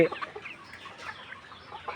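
Layer hens with eye discharge and swelling cluck softly and intermittently in a coop, scattered mid-pitched calls spread across the moment with no voices present.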